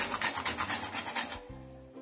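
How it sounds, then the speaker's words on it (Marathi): Whole nutmeg rasped across a small grater over puran filling, a quick run of rhythmic scraping strokes, close and crisp, ending in a brief low thud with no talk. "यामध्ये थोडं जायफळ किसून घालू।"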